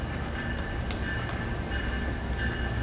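Amtrak California Zephyr train standing at Denver Union Station, a steady low rumble and hiss of the idling train with faint metallic ticks, continuous and fairly quiet, no talking.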